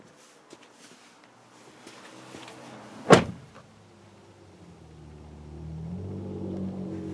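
A 2017 Toyota Tundra pickup's front door opens with one sharp mechanical clunk near the middle, then a low rumble builds toward the end; no one speaks.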